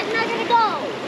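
Water in a creek, a steady rushing flow with splashes near and clear, while children play in it and voices sound faintly in the background.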